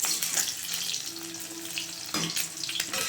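Eggs coated in turmeric fry in a pan, a close, fairly even sizzle with watery crackle and a few louder spatters and clatters near the end.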